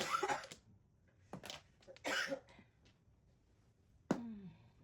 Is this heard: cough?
yes